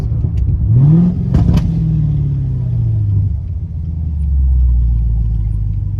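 Deep rumbling exhaust burble from a C7 Corvette with a burble tune as it revs up and settles, loud and close throughout.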